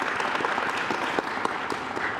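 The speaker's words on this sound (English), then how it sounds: "Please give these students a round of applause." A crowd claps continuously, a dense and steady round of applause with no voices standing out.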